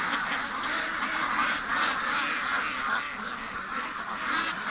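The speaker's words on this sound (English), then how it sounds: "We've got an escaped duck." Several Muscovy and other ducks quack loudly and continuously nearby, a busy overlapping chorus of agitated calls outdoors on a chilly day.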